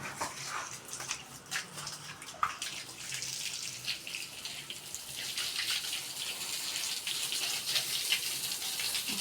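Water runs steadily from a tap while a toilet is washed clean, a faint continuous gush with occasional small splashes and knocks.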